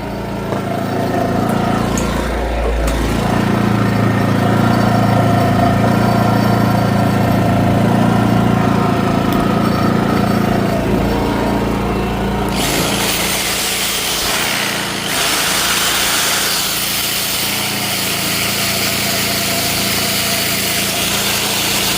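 A hand saw powered by a Hyundai G4500iE inverter generator buzzes steadily and loudly for the whole stretch, its tone shifting partway through as the cutting load changes, with no talking.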